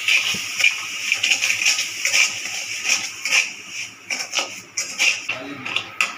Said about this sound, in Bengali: আমি সামান্য একটু জল দিয়ে দিচ্ছি।